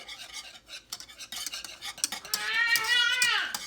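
Spoon stirring watermelon jam with fruit pectin in a pot, soft irregular scraping and clinking against the pot, fairly quiet and close.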